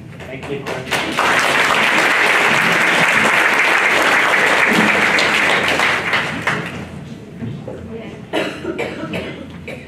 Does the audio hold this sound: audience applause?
yes